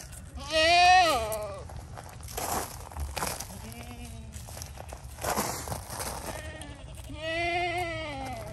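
Goats on an icy farm let out several loud, wavering bleats spread across the clip, with crunching footsteps and shuffling in between.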